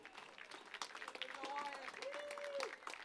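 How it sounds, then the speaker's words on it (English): Crowd applause at an evening baseball game, a spread-out wash of clapping heard at a distance under a public-address style voice, with a few whistles rising above it. "Round of applause for our junior Baycat here this evening."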